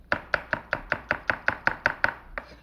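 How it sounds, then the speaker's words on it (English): A large knife chops through an onion on a board, about eleven crisp, evenly spaced strokes in a quick steady rhythm, close and clear, with nothing else heard. "by cutting the onion in half so it'll lie flat"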